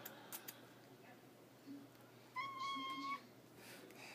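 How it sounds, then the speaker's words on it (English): A pet cat gives a single clear meow, fairly close and quiet, over a soft room background with a few faint rustles before it. "So, first, there is my cat."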